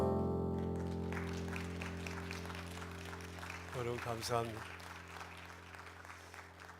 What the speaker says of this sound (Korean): 우리 아이들에게 한번 격려의 박수.